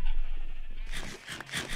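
Sheep bleating in Minecraft, a couple of short nasal calls in the second half, mid-loud over a steady low game hum with no talk.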